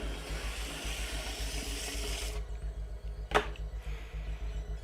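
Tap water running into a sink in a pottery studio, a steady close hiss that cuts off partway through, followed by a quick splash and a low background hum.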